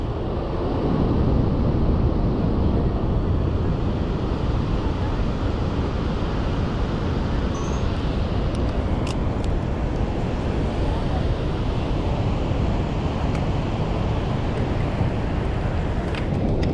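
Heavy, steady roar of water at Niagara Falls, close and loud, a continuous broadband rush with wind buffeting the microphone throughout.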